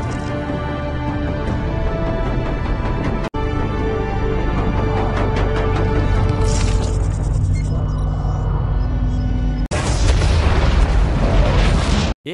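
Bomb explosion in the Halo Nightfall series: heavy rumbling blasts with deep booms, loud and sustained, broken by abrupt cuts and ending in a final bright roaring burst.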